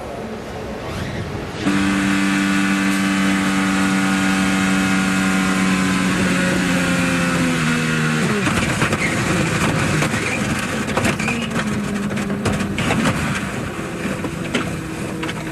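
Onboard IndyCar engine on Will Power's car at Indianapolis: a loud high-revving whine with steady harmonic tones, dropping pitch sharply around eight seconds, then a rougher, noisier roar that climbs again, without voices.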